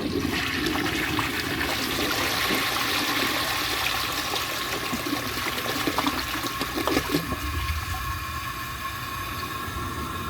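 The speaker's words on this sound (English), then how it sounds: "Let's give it a flush." A 1952 Homart toilet flushes loudly up close, water rushing steadily for about ten seconds before easing into a quieter refill trickle.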